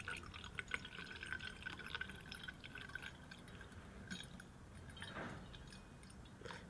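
Water trickles and drips faintly into a funnel-shaped container during a Pascal's law physics demonstration, a soft uneven pouring with small splashes and a brief louder gush near the end.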